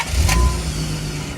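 German car engine starting up, a quick cranking catch settling straight into a smooth steady idle, close and moderately loud.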